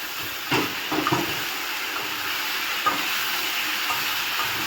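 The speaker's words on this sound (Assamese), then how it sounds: "এনেকৈ মছলা ভজা হৈ গৈছে ইয়াতে মই কাটি ৰখা চব্জিখিনি" Chopped vegetables are added to spices frying in a pan, giving a steady loud sizzle with a few clatters of stirring near the start and a single clink later, and nobody speaks.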